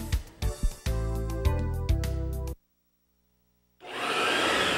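A vacuum cleaner motor in a radio advert for a vacuum shop, revving in several short loud bursts, cutting to silence, then roaring back up steady and close.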